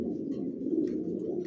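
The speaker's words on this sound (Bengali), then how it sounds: "অরিজিনাল মাক্সি রেসার ডাউন শেপের মাদি ডিম নিয়ে বসা আছে" A female racing pigeon of the Johnson long-distance line, sitting on her eggs in a loft, gives a low steady cooing drone close by, with a few faint chirps above it.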